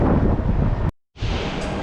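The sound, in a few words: wind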